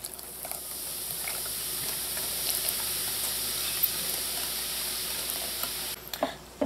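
Steady, even hiss with faint patter as a bottle of Guinness, 11.2 ounces, pours into dark spiced bun batter for a Jamaican sweetbread, continuous at close range, ending with a brief clatter.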